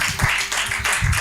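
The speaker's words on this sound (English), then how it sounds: "let's give a round of applause to all the runners as well" Applause for runners at an event, a short burst of rapid overlapping claps from a crowd, fairly close and steady.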